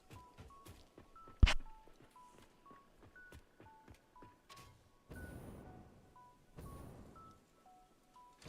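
In-game footsteps in Satisfactory, a steady run of soft, quiet thuds with one sharp loud knock early on, then busier hissing texture as walking continues among faint tonal game chimes; no talking.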